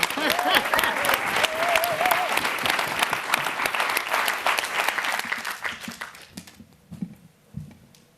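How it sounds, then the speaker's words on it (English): A live audience at a business debate event bursts into strong, dense applause that holds for several seconds, then tapers off to a few scattered claps near the end. "So give us a round of applause for Ade."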